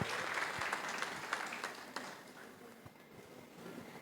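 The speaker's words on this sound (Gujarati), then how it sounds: "તાળીઓનો ગડગડાટ થોડોક વધારે રાખજો" Audience applause at a Raghuvanshi employees' association honour ceremony in Khambhalia, Devbhumi Dwarka: a sustained, fairly distant wash of many hands clapping that fades slightly toward the end.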